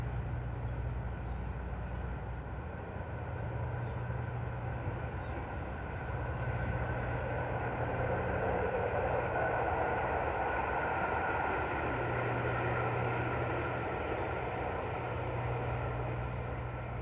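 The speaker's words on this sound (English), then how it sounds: "Only the mechanical sounds of the train and nature sound here." A train rumbles past a golf course during the 1971 US Open playoff, a steady, fairly loud mechanical roar that holds for the whole stretch with outdoor ambience and no talking.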